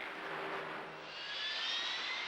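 A military jet engine on an aircraft carrier deck spools up to full take-off power, a loud, steady, close roar with a rising whine.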